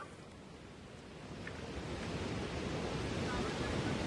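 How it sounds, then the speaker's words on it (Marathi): Floodwater surges over a submerged rural road near Karjat after heavy monsoon rain, making a continuous rushing roar that grows slightly louder, with no voices. "पाण्याचा वेग पाण्याचा प्रवाह प्रचंड आहे।"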